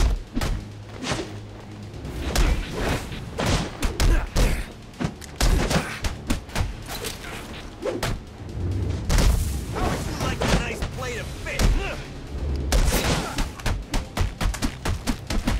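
Gunfire in Batman: Arkham Origins on PC, a dense run of sharp booming shots and thuds that fire in quick irregular bursts across the whole stretch, loud and close, with a voice talking over parts of it.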